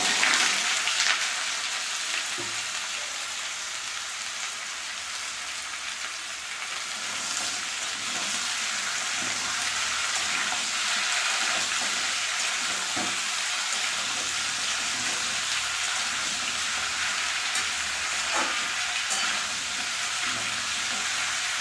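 Chopped ginger and onion frying in hot oil, a broad, even hiss of sizzling that holds steady and close for the whole stretch, with a few faint scrapes of stirring.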